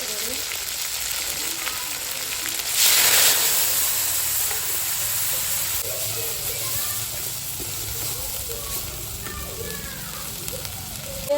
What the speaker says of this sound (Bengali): তারপরে দিয়ে দিচ্ছি সর্ষে পোস্ত আর নারকেল আদা একসঙ্গে বাটা আছে